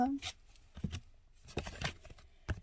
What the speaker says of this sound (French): on va prendre une carte au hasard